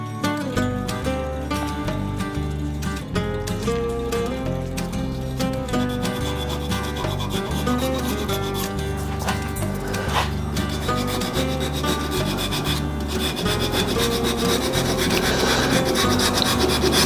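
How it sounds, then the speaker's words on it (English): A wooden shaving brush being sanded on a lathe gives a steady, close rubbing hiss, continuous for the whole stretch over a faint tonal background. "Because there's still a bit of sanding to do to it yet."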